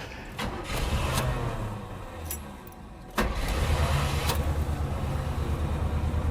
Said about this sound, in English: Is there a motor in here? Yeah, I think it starts.